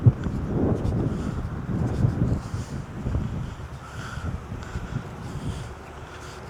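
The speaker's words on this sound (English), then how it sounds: "It's actually pretty windy today, so I'm gonna try to keep my mic covered." Wind buffeting a partly covered microphone on a river walkway in a park, gusty low rumbling that is strongest at the start and eases to softer, uneven puffs.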